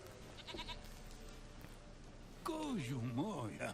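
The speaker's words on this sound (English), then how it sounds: "I brought your stupid goat back." A goat in The Witcher 3 lets out a loud, wavering bleat close by, following a stretch of quieter background ambience and faint sounds.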